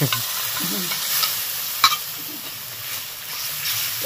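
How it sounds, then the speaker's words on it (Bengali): Yogurt is stirred into spices frying in a pan for a paneer, cauliflower and pea dish, with a steady sizzling hiss and soft scraping strokes of the spoon close by. "সমানে নাড়তে হবে দইটাকে দেওয়ার পর।"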